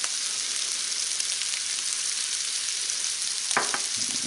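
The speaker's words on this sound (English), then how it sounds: "We're going to throw the onions, the mushrooms, the garlic, the whole 9 yards in there." Onions, mushrooms and garlic fry in a pan with a steady, even sizzle from start to finish, and a couple of brief stirring scrapes come near the end.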